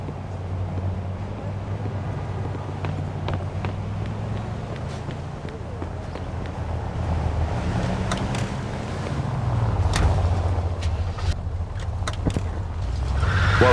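A car being driven in Mafia II, a steady low engine drone that swells slightly toward the end, with voices talking over it.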